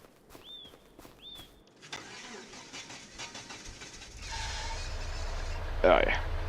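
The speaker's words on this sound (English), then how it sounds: "Oh yeah, gotta love the way that truck sounds." In Farming Simulator 25, a truck hauling a trailer builds from a low idle into a louder, rising engine drone with hissing air sounds. A short chirp and scattered clicks come first, and the engine grows to a strong close rumble by the end.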